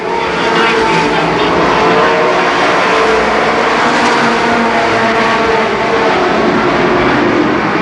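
Race cars roar around the oval at Columbus Motor Speedway in a 1990 memorial race, a loud, sustained pack of engines droning continuously with a race announcer talking over the noise.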